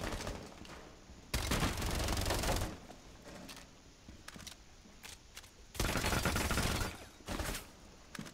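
Gunfire in Rainbow Six Siege rattles in two long automatic bursts separated by scattered single shots and quieter gaps, all fairly loud and close.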